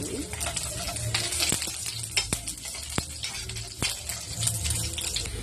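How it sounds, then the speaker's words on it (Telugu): Garlic cloves sizzle in hot oil in a pan after roasting poppy seeds for a South Indian dhaniya podi spice powder, a steady crackling hiss with a few sharp clicks and no talk. "ఫ్రెండ్స్ వెల్లుల్లిపాయలు వేసి వేయించుకోవాలి బాగా"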